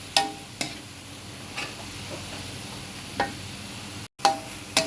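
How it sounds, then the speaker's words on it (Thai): Minced pork with holy basil leaves is stir-fried dry in a pan, a soft sizzle under sharp intermittent scrapes and clicks of the spatula, with a brief drop out near the end. "ผัดกะเพราหมูสับนะครับผัดแห้งๆ"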